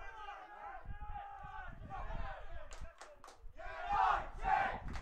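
Red and Green Army supporters of Coventry United chanting and cheering at an away match against Sporting Khalsa in Wolverhampton, a sizable crowd roaring with rising bursts and sharp claps while a commentator talks over them.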